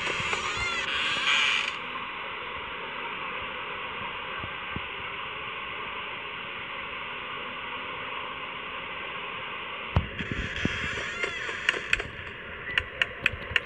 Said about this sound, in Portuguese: Tem que fechar a porta.